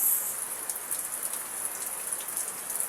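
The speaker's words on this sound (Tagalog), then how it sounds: "yung ulan, maalat-alat" Steady rain falls without a break, a dense, even hiss of drops close by at moderate loudness, with no voices.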